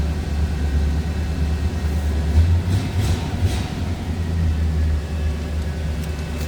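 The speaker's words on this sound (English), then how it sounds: "Nice throttle response in that flathead." A low, rumbling flathead engine in a 1934 Ford Deluxe Cabriolet idling and revving steadily, with a deep throb that swells briefly mid-way, heard up close without any talking.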